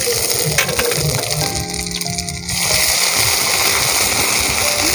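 Ginger paste with cumin seeds stirred and fried in hot oil in a pan, a steady loud sizzle running throughout, dipping briefly and then returning stronger, with stirring scrapes mixed in.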